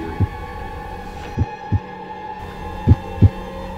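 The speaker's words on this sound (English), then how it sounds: "Then came a sound. I knew that sound well. It was the beating of the old man's heart." A beating heart sound effect, meant as an old man's heart, gives five low, muffled thumps at uneven intervals over a faint steady hum, with no talking.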